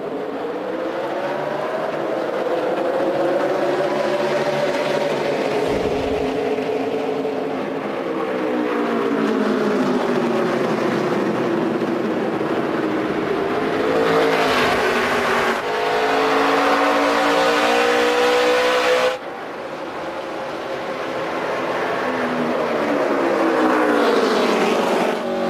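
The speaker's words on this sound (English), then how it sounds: "Jeremy Clements, free pass, restart, 72 laps to go" NASCAR Nationwide Series stock cars at the 2012 F.W. Webb 200, roaring loudly on a restart, a continuous close engine drone with rising and falling pitch as the pack accelerates and passes.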